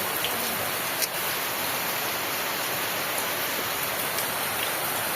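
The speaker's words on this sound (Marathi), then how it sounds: "3 दिवस मित्रांनो कंटिन्यू सलग पाऊस सुरू आहे." Heavy monsoon rain pours on its third straight day, a dense, even hiss of falling water close by with no break, and one small knock partway through.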